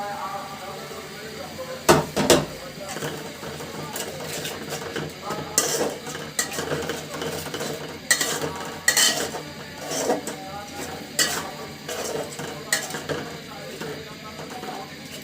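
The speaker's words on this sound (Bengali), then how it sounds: "মশলাটা খুব সুন্দর করে কষিয়ে নেব।" Spices of turmeric, chili, salt and coriander being stirred and sautéed for chicken curry, a utensil scraping and clinking against the pot in uneven close bursts over a steady low sizzle.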